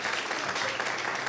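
A congregation claps for children at a Resurrection Day prize distribution in church, a brief burst of dense, lively applause.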